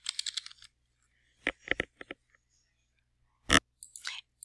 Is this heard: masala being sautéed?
no